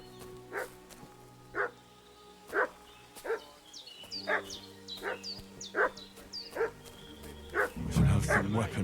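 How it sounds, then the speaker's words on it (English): A dog in the medieval game Kingdom Come Deliverance 2 barks again and again at a steady, roughly even pace, moderately near, each bark short and sharp, with a lower muffled burst at the end. "What's that dog making such a fuss about?"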